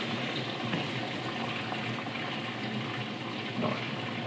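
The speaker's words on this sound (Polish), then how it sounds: "Się nabiera woda do mycia zasadniczego" A Predom Metrix SL 85 dishwasher fills with water for its main wash, a steady close hiss and gush of inflowing water with no talking.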